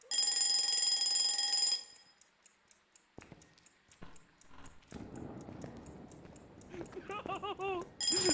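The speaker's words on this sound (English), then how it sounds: "An alarm clock." A loud electronic alarm clock rings steadily in the ghost-hunting game Phasmophobia, then cuts off, leaving ticking and clattering game sounds while people talk excitedly over it.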